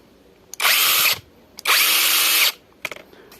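Procraft PKA 32Li cordless mini saw switched on twice, two loud, close whirring motor bursts of about half a second and one second, each cutting off abruptly, with clicks before and after.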